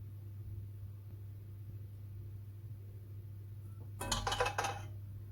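Egg noodles tipped into a too-small pan for a smoky seafood carbonara, a brief close clatter and rustle near the end over a steady low kitchen hum.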